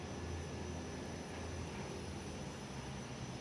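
A Jetstar airliner taxis at Perth Airport, its engines a steady, faint distant rumble and whine with no talking.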